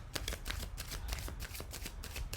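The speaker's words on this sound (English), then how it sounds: "another rifle on these, another shuffle and another rifle" A deck of playing cards is riffle shuffled, giving a close, continuous burst of rapid flicking clicks that ripple evenly through the short moment with no talking.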